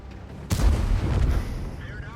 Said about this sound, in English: And there's the Arty in the background